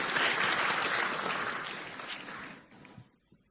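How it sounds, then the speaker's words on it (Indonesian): Applause rings out for group C at a provincial quiz competition final, a full burst of crowd clapping that thins and fades away to near silence within a few seconds. "tepuk tangan dulu untuk grup C."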